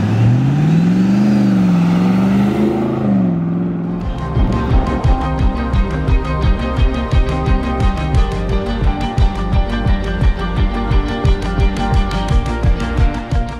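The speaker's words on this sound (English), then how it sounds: "This 110 is powered by our 450 horsepower LT1 engine with 8-speed automatic" A restored Land Rover Defender 110 soft top with a 450 hp LT1 engine and 8-speed automatic rises in a revving pitch, then settles into a loud, pulsing rumble with regular throbs, close and alone.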